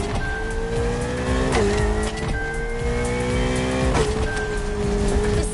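Car drifting in The Crew Motorfest racing game, engine droning steadily with tire squeal and two distinct gear-shift dips, loud and continuous with no talk.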